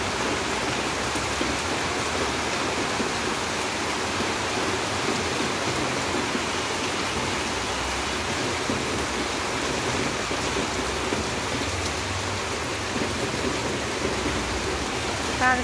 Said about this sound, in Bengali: বৃষ্টিটা চলে আসছে